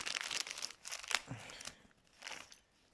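Crinkly plastic packaging for a Lego parts haul being torn and crumpled, close up in bursts of rustling and crunching with short pauses between.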